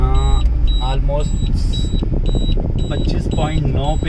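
A Maruti Suzuki Ritz CNG's low-fuel indicator sounds a series of short, high, evenly spaced beeps over the car's engine rumble and road noise while someone speaks.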